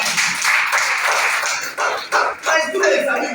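Audience clapping at a business presentation in Kaduna, Nigeria, with uneven bursts of claps and shuffling, mixed with voices in the room.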